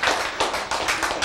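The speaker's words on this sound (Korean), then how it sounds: "박수 쳐." Rhythmic hand clapping from a church congregation during a sermon, about six evenly spaced, crisp claps close by with no talking.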